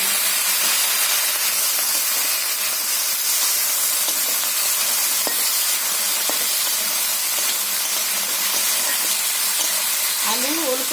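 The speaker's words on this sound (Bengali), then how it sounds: "আলু, ওলকপি আর বেগুন আমি একসঙ্গে বন্ধুরা ভেজে নিচ্ছি।" Potato, kohlrabi and eggplant pieces frying together in oil, a dense, steady hissing sizzle throughout with occasional crackles, close and loud.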